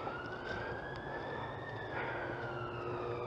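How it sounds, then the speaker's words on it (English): An ambulance siren wails, sweeping up and down at a distance beside the A6 road, steady and fairly faint over a low background rumble. "Ambulance."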